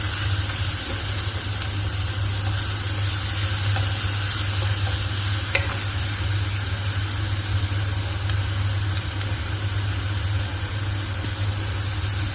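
Potato curry with fish heads frying in a pan after salt goes in, a steady close sizzle and hiss with continuous stirring and occasional faint scrapes.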